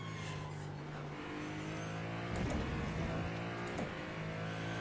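A hybrid race car in the iRacing and Le Mans Ultimate sim racing games drones at steady revs, then surges briefly louder as it shifts and accelerates, faint and continuous under the game's track ambience.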